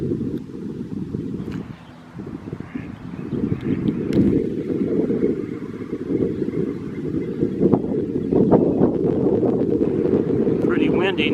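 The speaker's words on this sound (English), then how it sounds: "Pretty windy now." Strong wind gusts buffet the microphone beside a park pond on an early spring morning hike, a loud, steady roaring rumble that dips briefly near the start, then rises and holds heavy for the rest.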